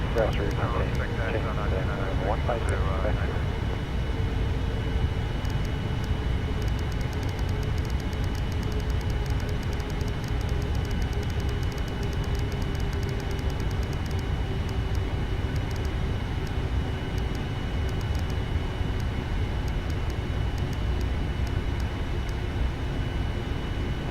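A Qantas Boeing 787-9 departing runway 24L at Los Angeles International, heard as a steady, broad jet roar that lasts throughout, with faint radio voices early on.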